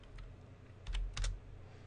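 A computer keyboard is typed on in two short clusters of quick keystrokes over a quiet background, close and alone.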